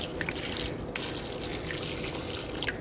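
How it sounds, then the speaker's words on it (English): Water poured from a container into a pan over asparagus on a stovetop, a steady splashing, trickling flow close by with no talking. "This is 4 cups of water, so I'm just going to pour it on so it covers up the asparagus."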